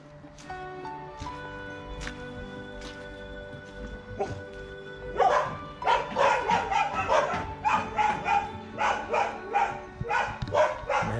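Several puppies bark and yip excitedly in a rapid, overlapping chorus that starts midway and grows louder and busier, after a quieter stretch with a few whimpers.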